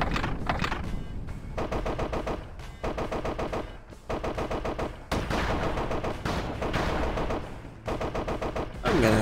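A mech's gun with unlimited ammo in a side-scrolling mech shooter video game fires in long, loud, unbroken automatic bursts, separated by a few brief pauses.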